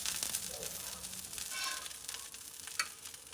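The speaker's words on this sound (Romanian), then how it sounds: "Acum o să pun presa de burger peste feliile de bacon ca să le țină drepte" Bacon slices pressed flat under a hot, grease-coated burger press on a kamado grill give a steady, faint crackling sizzle with small pops throughout.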